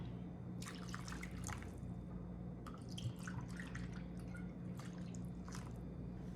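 Water pours into a container to rinse out the last of some pureed onions during kitchen meal prep, with quiet, intermittent splashing and trickling bursts and no talking.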